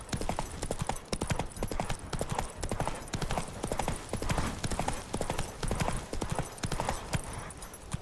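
Roach, a horse in The Witcher 3: Wild Hunt on PS5, gallops in a steady, driving rhythm of hoofbeats that stays loud and close for the whole stretch, with no talking.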